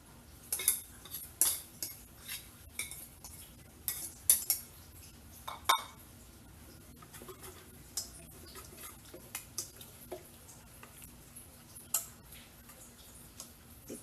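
Shrimp is stirred into ukoy batter in a bowl, with metal utensils tapping and clinking against the dish in an uneven, steady rhythm, close and fairly quiet.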